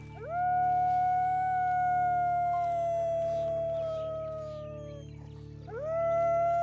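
Wolves in Red Dead Redemption 2 let out long, steady howls close by, one sustained tone sliding slowly downward, then a fresh howl rising sharply near the end, with a low droning hum underneath.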